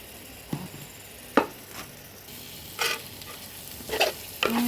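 Onions sautéing in a pan for beef masala, a low steady sizzle broken by several sharp spoon scrapes and knocks against the pan, no voices.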